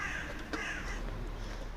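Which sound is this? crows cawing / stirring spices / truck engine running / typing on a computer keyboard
crows cawing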